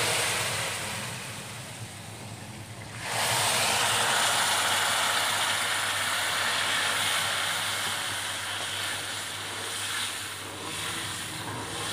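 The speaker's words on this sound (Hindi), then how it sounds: "अब साथ ही हम इसके अंदर पानी ऐड कर देंगे" Water poured into semolina roasting in a pan for suji halwa, with raisins and coconut already added, bursts into a loud, steady sizzling hiss that jumps up suddenly and continues close by without letting up.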